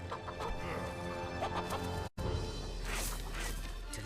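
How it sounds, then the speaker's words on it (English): Chickens clucking in the video game Fable 3, busy overlapping clucks and squawks over ambient game sound for about four seconds, broken by a brief drop-out midway. "Freaking chickens."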